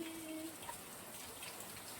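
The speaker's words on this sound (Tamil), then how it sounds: "மழை நல்லா பெய்யுது பாத்தீங்களா" Heavy rain pours down in a steady, dense hiss of drops with no break, faint and distant, with no voices over it.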